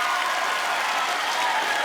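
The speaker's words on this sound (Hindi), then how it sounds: "जोरदार तालियां।" Steady, dense applause from a large audience at a Bollywood stage event welcoming Arbaaz Khan and Sohail Khan, sustained and even throughout with a faint crowd murmur and no speech.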